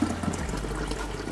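Water pours steadily into the reservoir of a Hamilton Beach 12-cup coffee maker, a close, continuous splashing fill with no one talking.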